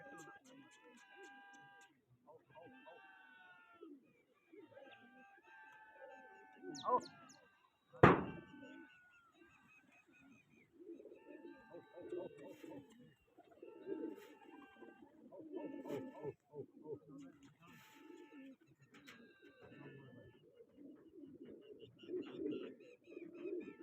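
Pigeons cooing in soft repeated calls around a pigeon-flying contest, mixed with chirps, one sharp bang, and people talking throughout.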